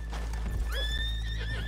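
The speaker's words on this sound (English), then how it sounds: "leave the horses here off the main drag" Horses in Red Dead Redemption 2 neigh loudly in a long, rising and falling whinny over the steady, close clip-clop of hooves, with no talking.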